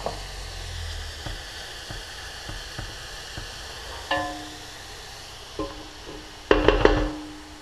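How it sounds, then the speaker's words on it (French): Onions, mushrooms and sliced gherkins sizzling in a hot pan, a soft continuous frying hiss with scattered taps and scrapes of a utensil, building to a louder clatter near the end. "Je vais mettre maintenant mes cornichons coupés en rondelles."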